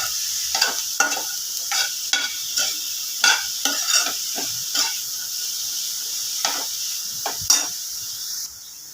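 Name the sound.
cluster beans added to pan with turmeric, sizzling and stirred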